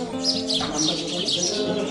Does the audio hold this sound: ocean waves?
no